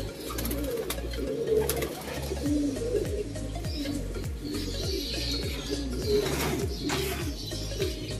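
Racing pigeons coo steadily in low, throaty murmurs, several birds overlapping close by, with occasional faint chirps and wing flutters in the background.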